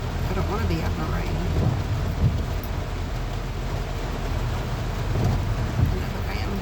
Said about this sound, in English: it's hard to get anything done when all it does is rain.